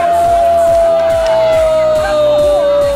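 Spectators at an amateur bank-league football final yell and jeer at a provoking player, a loud, continuous wash of shouting and whoops carrying over the pitch.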